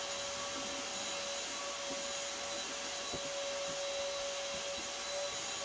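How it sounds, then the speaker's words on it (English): A vacuum cleaner drones steadily throughout, sucking up leftover drywall dust and dead yellow jacket wasps indoors beside a light fixture; the motor whine holds constant with faint rubbing and knocking of the nozzle. "going around just vacuuming up the rest of the drywall dust and any envelope that dropped, and obviously some workers and things"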